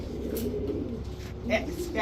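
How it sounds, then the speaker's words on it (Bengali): A silver male pigeon with ash eyes coos softly in a few low bursts, faint against background chatter and room noise at a pigeon market. "অ্যাশ চোখের একটা সিলভার নর কবুতর।"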